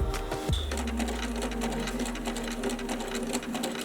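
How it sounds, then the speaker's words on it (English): A sewing machine runs steadily and loudly up close, stitching a simple seam near the edge of a fabric face mask in one continuous whirring burst. "you'll just make a simple little seam right there, as close as you can to the edge"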